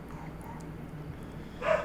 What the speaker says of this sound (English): Listen to the dogs bark in the distance.